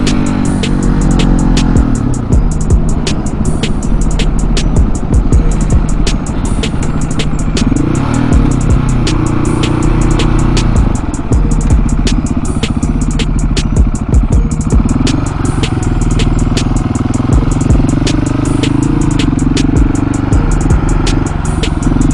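KTM 701 Supermoto single-cylinder motorcycle riding in first gear, its loud engine droning and rising in revs close up, with wind buffeting and rattling clatter throughout.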